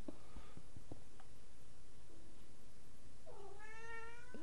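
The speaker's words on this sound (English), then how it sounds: "And the kittens are making noise" Kittens in a Minecraft Bedrock survival game give a few short meows, then a longer, rising game meow near the end over a low background hum.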